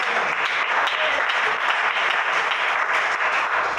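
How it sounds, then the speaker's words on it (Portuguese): A church congregation applauds in praise during a Portuguese-language evangelical service, a dense, steady roar of many hands clapping at close range that carries evenly throughout without speech. "Palmas para Jesus."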